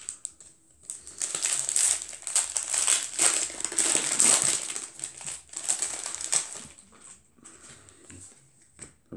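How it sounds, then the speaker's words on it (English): Empty Transformers trading card packets crinkle and crunch close by in continuous, irregular bursts of rustling plastic, with no talking. "I've got a lot of empty packets to clear up."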